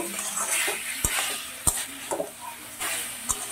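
Cauliflower and peas being stirred with spices in a pan, a close, scraping stir broken by several sharp knocks of a spoon against the metal, over a faint sizzle, no voices.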